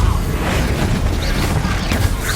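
Spells cast in Hogwarts Legacy, a dense stream of booming, crackling magical blasts and bursts layered over a continuous loud rumble, with sharp hissing flares near the end.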